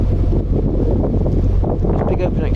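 Strong, steady wind roars and buffets the microphone throughout, with no pauses, on a narrowboat crossing open expanses between Barnby Dun and Doncaster.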